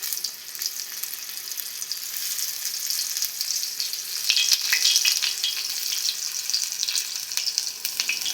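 Masala-coated brinjal slices sizzling on a hot tava, a steady close frying hiss that swells as more slices are laid down one by one, with no talk.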